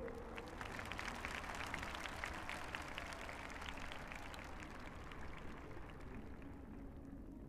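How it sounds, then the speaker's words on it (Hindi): A large outdoor audience at a Republic Day address applauds, producing dense, steady clapping that sounds fairly distant and faint and does not let up for the whole stretch. "गर्व करें और ताली बजाइए उन बेटियों के लिए"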